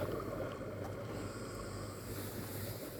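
Steady wind gusting outdoors beside the sea, a broad continuous rush with low rumble and faint surf beneath, loud and close to the microphone throughout, with no voices.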